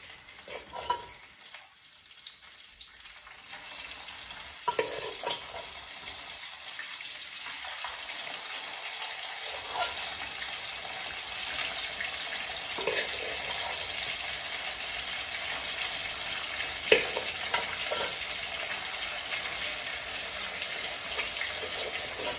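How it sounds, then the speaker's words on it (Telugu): Chicken frying in hot oil for pickle, a continuous bright sizzle that builds and steadies over time, with occasional stirring knocks and scrapes, close by and without speech. "దీన్ని మనం చికెన్ని ఆయిల్ వేసేసుకొని ఫ్రై చేసుకుందాం."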